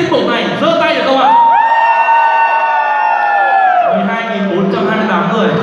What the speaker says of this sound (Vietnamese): ban giám khảo cũng đã nghe được cái tiếng hò reo từ khán giả